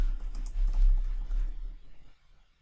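Soft clicking of keys on a computer keyboard, a brief quick burst of typing that trails off into quiet.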